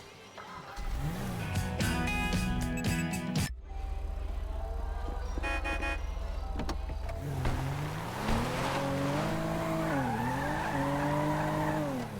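A car in GTA 5 revs and races, its engine climbing and falling in pitch, with tires squealing and skidding loudly through the drive and background music playing beneath.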